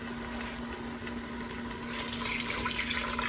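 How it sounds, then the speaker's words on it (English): Steady rushing water pours continuously into a cooking pot, growing a bit louder and brighter toward the end, with a low hum underneath. "so let's add some water"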